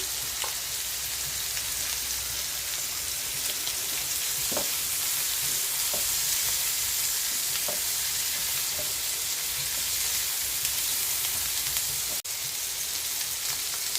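Bitter gourd pieces sizzle and fry steadily in hot oil with garlic paste, turmeric, cumin, dried chilli powder and salt, a constant close crackling hiss with occasional stirring clicks and no voices.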